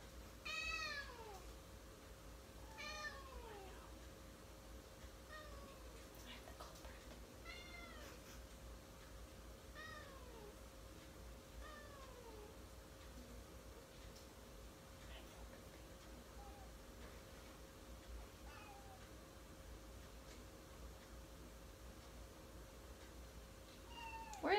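A cat meows repeatedly while its rectal temperature is taken at a veterinary training session, with a series of plaintive, falling cries spread through the clip, close and fairly clear, and a person speaks softly between them.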